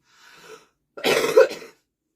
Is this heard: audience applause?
no